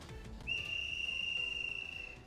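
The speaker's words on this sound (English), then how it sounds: "the sound of a whistle resounded from a little distance away" A high, thin whistle from the video game Hakuoki: Kyoto Winds rings out once and holds steady for nearly two seconds, faint and distant over a low background.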